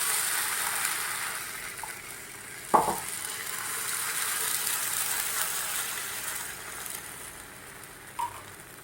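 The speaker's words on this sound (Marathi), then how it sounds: "पॅन गरम झालेला आहे याच्यात आपल्याला थोडंसं तूप लावायचं आहे" Fasting dosa batter sizzling on a hot pan greased with ghee over a medium flame: a steady soft hiss throughout, broken by a sharp clatter partway through and a small tap near the end.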